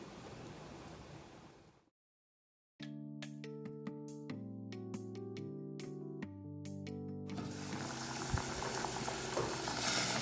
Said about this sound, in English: So it's on the fire now guys. I'm gonna allow it to boil